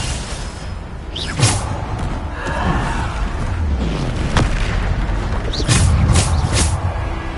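Bombarda blast spells in Hogwarts Legacy: several loud booming explosions with whooshing bursts, one near the start, another mid-way and a cluster near the end, over a continuous rumbling game background.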